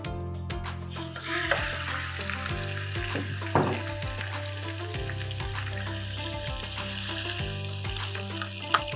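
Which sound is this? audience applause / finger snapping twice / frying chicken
frying chicken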